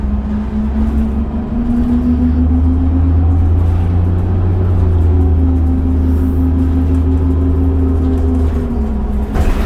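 Steady, loud drone of a New Flyer D40LF city bus's Cummins ISL diesel engine heard from inside while riding, a low hum with a gently shifting tone that slowly climbs and settles, holding on throughout.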